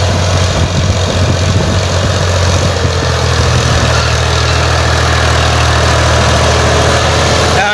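A tractor engine running steadily in a maize field while ploughing, a loud, close, continuous low drone with a constant throbbing hum and no voices.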